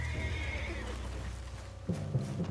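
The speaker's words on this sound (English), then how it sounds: "What's got this horse spook, huh?" A spooked horse whinnies in Red Dead Redemption 2, a high neighing cry over a steady low game soundscape, followed near the end by a few heavier low thumps.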